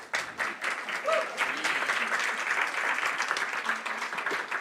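Sustained applause from an audience at a Jewish anti-Zionist congress, a dense steady clatter of many hands held for several seconds with no speech.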